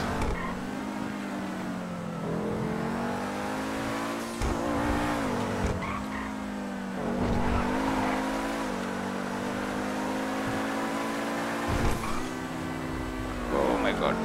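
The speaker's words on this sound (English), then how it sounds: "This car is really great, but the braking is not that great, but the power is on another level actually." Lamborghini or Koenigsegg super car driven in GTA 5, engine droning and revving with pitch rising and falling, bursts of tire squeal and skidding, loud and continuous.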